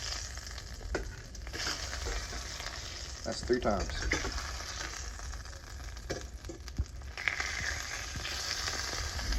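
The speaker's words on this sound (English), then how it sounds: "Look at that sizzle." Croaker fish frying in a pan, a steady crackling sizzle with occasional pops and utensil scrapes, heard up close under quiet casual talk.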